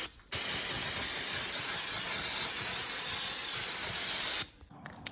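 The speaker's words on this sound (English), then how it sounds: "use this prep spray" A single continuous hiss of aerosol degreaser prep spray on a Dodge truck, lasting about four seconds, close and steady, starting and stopping abruptly with quiet before and after.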